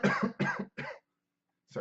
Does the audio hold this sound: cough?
yes